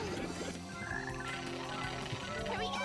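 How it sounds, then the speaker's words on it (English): Frogs croak in a dense, overlapping chorus inside the Sonic Heroes video game, loud and continuous over game music. "they're all froggies down here"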